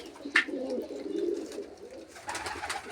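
Domestic racing pigeons kept by a hobbyist coo in low, rolling murmurs, one close bird overlapping others under dim, stormy weather, with a brief sharper chirp near the start and faint background rustle.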